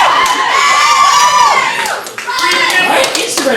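An audience at a burlesque show at Gallery5 in Richmond, Virginia cheers and whoops loudly, with shouts and scattered clapping, dipping briefly before rising again.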